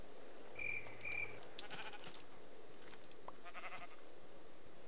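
Minecraft sheep in the Tekkit modpack bleating as it is hurt and sheared by a tool, two short nasal bleats close together over a faint steady background.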